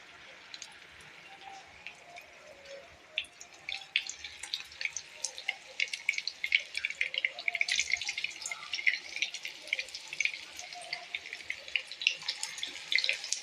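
Green pea and sweet corn cutlets shallow frying in hot oil give off a steady, crackling sizzle that grows busier and denser partway through, with no talking.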